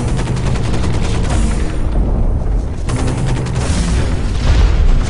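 Gunfire rattles continuously from the Hawken mech game, loud and dense bursts of automatic shots and booms with no break.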